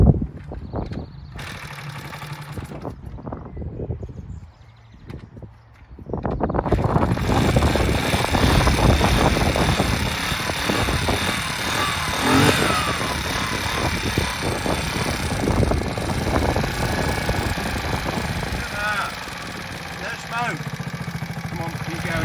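A cold 1973 Honda SS50 moped is started on choke after a quiet lead-in, then runs with a steady, buzzy engine drone that stays up close, partly under wind noise and someone talking.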